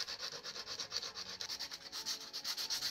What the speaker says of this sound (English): I'm sanding along the edges of the groove